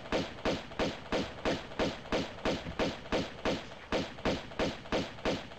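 Rapid, evenly spaced thuds repeat about twice a second, a steady rhythm of muffled gunshots in Tomb Raider 2, with no talking.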